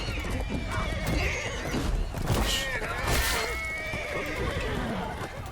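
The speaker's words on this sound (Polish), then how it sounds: "tu mam dwóch, dwóch na koniach" Horses in the medieval combat game Chivalry 2 neigh loudly and whinny over a dense wash of battle noise, hoofbeats and clashes, with a voice murmuring underneath.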